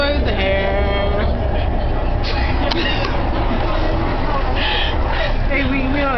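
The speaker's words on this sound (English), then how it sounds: "Hey, we on a train." Inside a moving train, a constant loud rumble and rattle of the car fills the space, with people talking and chattering over it throughout.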